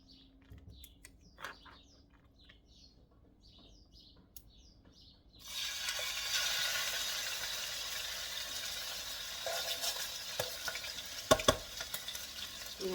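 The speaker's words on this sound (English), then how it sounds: "we're gonna put these 4 in the frying pan" Four chicken pieces dropped into a frying pan, a sudden burst of loud, steady sizzling after several seconds of near-quiet tapping and faint chirps, with a few clanks near the end.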